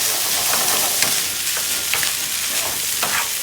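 Leftover food sautéing in a pan, giving a steady, close sizzle with scattered stirring scrapes and small crackles throughout.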